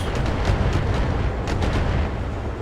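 Mech weapons fire in the BattleTech video game, a dense, continuous wall of booming artillery-like blasts and rumbling explosions, loud and unbroken throughout.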